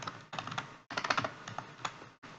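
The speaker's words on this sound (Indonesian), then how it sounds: "saya ketikkan biaya" Someone types on a computer keyboard while entering text in a Microsoft Excel spreadsheet, producing quick clusters of close key clicks in two or three short bursts with brief pauses between.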